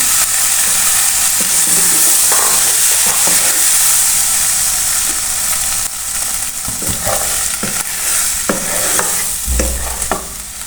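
Chicken frying with spices in a pan, a loud continuous sizzle with occasional stirring scrapes, easing slightly midway and ending with a low thump.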